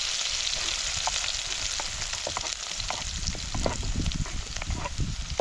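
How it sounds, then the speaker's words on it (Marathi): Onion and green chilli sautéing in a hot pan with garlic, a dense continuous sizzle with frequent spatula scrapes and clicks, loud and close with no talking. "कांदा चांगला परतून घ्यायचा"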